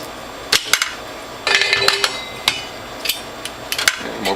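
Metal parts of a Whole Health Foundation juicer, including an 80-tooth cutter, being fitted in place, giving a series of sharp metallic clacks and knocks with a short rattling scrape in the middle, close and fairly loud with no talking.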